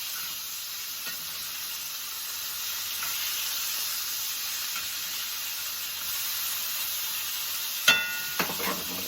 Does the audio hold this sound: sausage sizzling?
yes